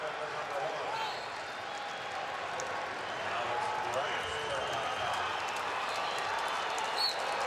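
A pro-Iowa crowd at an NCAA Division I wrestling semifinal rises to its feet cheering, a sustained roar of voices and clapping filling the arena while a commentator talks over it.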